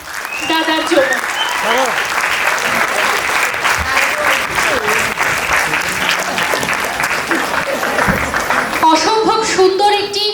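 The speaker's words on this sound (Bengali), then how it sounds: "সবাই মিলে একটা জোরে হাততালি হবে আমাদের দাদার জন্য।" An audience at a school's annual cultural day claps loudly and steadily after a play, a dense, sustained applause lasting throughout, with some voices mixed in.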